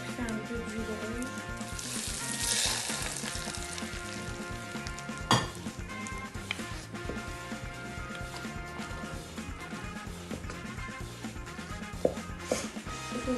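Food frying in red palm oil with onions, a steady sizzle running throughout with a few brief clinks, plus tonal music playing over it.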